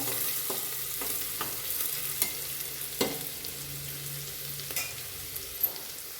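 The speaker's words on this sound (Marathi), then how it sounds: "छान हलवून घ्यायचा आहे कांदा मस्त" Onion sautés in a pan for a chicken dish, with a quiet, steady sizzle under scattered spatula scrapes and taps as it is stirred. No one talks.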